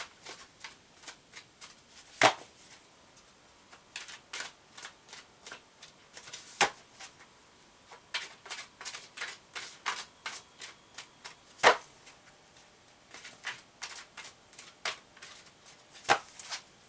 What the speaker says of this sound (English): I'm going to shuffle this deck